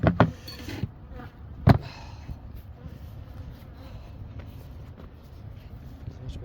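Honey bees buzzing around beehives outdoors in winter, a soft continuous drone of insects with a couple of sharp knocks near the start, no speech.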